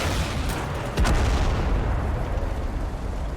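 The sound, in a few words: tank firing its cannon in a video game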